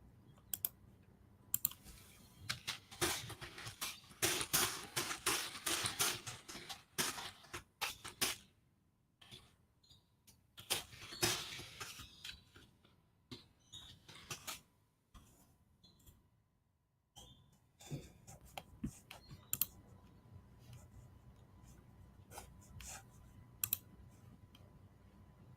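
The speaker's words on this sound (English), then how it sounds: "I'll just wait and see what Andrew is typing" Rapid typing on a computer keyboard, bursts of close clicking keystrokes separated by short pauses, with no talk over it.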